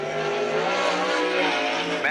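Chevy-powered Ellis sprint car, number 85, on a qualifying run in a USAC/CRA sprint car race at Santa Maria, California, a loud rising engine howl with harmonic sweeps that ends in a sharp shift near the close.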